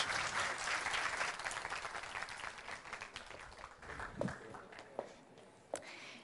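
Audience applause for a team at a startup demo day, a dense wash of many hands clapping that gradually thins out, with a few louder individual claps near the end.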